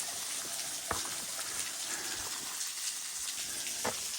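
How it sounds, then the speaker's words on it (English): A waterfall heard from behind the falling water along a boardwalk trail, a constant loud rushing wash that fills the space, with a few sharp splashes or taps standing out against the steady roar. "I've never been behind a waterfall before, y'all."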